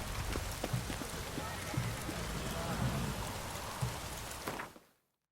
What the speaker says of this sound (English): It's damp. It's raining.